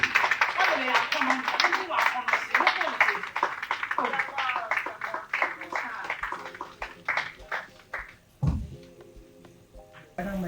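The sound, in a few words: audience clapping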